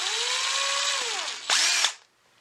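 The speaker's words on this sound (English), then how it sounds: "Recently, I've just found my dad's power drill." A power drill whirs at high speed, slows down with a falling pitch, briefly revs up again, then stops, leaving quiet.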